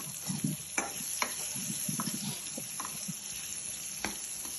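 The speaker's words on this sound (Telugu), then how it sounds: "ఇంకా కలుపుతూనే ఉన్నాడు." Close, intermittent scraping and clinking as food is stirred in a sizzling cooking pot, with a constant high hiss in the background and no voices.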